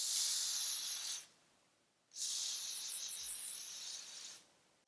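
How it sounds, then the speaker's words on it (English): Hair spray misted onto a wig in two long hissing bursts, the first about a second, then a pause, then a longer spray, close and loud with no talking. "Probably gonna do one more spray."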